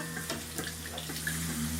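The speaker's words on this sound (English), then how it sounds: "We've got the water going in." Water pours into a hot cooking pan while making chicken chow mein, a close, steady splashing and sizzling hiss with irregular spatters and bubbling.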